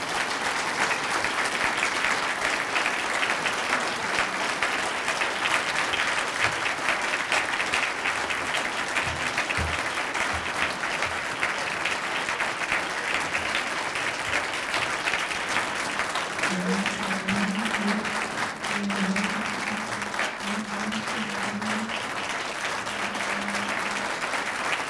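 A large audience gives a university president long, steady applause, thick continuous clapping that holds for the whole stretch, with a faint voice or hum briefly rising beneath it near the end.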